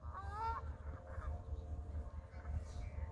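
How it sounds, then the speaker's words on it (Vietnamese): A flock of goose-like birds honks outdoors in autumn Germany, several rough calls overlapping near the start and again near the end over a steady low background rumble. "Con này nó giống như con ngỗng"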